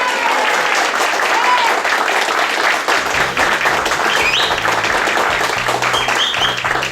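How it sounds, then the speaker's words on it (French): A room full of guests at a restaurant award ceremony breaks into sustained, dense applause that stays steady throughout, with a low rhythmic music bed beginning partway through. "Sous vos applaudissements"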